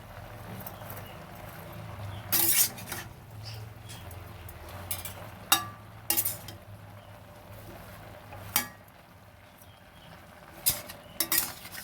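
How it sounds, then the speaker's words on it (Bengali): A spatula stirs curry in a pan, scraping and clinking against the metal in scattered irregular strokes over a low steady background hum, close and moderately quiet. "এক হাতে হচ্ছে রান্না, খুন্তি ধরে নাড়ানোটা খুব সমস্যা হচ্ছে"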